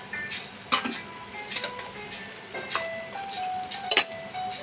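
Tomato paste is stirred into a hot frying pan, a soft sizzle under scattered scraping and clinking of a spoon against metal, close and fairly quiet.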